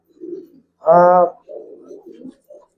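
A single loud pigeon coo rings out, with softer low murmuring coos before and after it, close by; old-line Giribaz and Palla pigeons.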